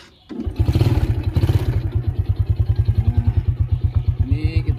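A 2011 Yamaha Jupiter Z motorcycle starts up close by, its small engine catching after a brief crank and settling into a steady, rapid idle with a clear pulsing rhythm.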